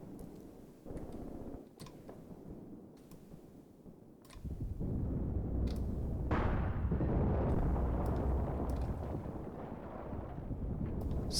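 Anti-tank guns fire in a Graviteam Tactics battle, heavy booming blasts and rumbling explosions rolling in at varying distances, with a sustained roar of distant combat building toward the end.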